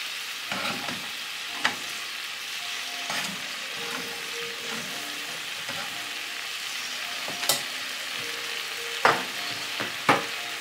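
Meat and onion for an Ecuadorian lomo saltado fry in a pan with a soft, steady sizzle, punctuated by scattered spatula scrapes and a few sharp clinks, close but fairly quiet, with no speech.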